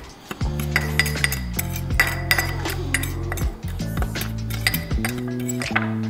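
A utensil clinks and rings against a bowl again and again while a strawberry mixture is stirred together with maple sugar, giving a busy run of bright metallic and glassy taps close by.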